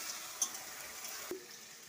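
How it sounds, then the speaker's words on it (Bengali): Ginger-garlic paste frying in a hot pan, a steady soft sizzle with a couple of faint stirring clicks, heard alone without voices. "আদা রসুনের পেস্টটা আমি দিয়ে দিলাম। এটা একটু কষবে।"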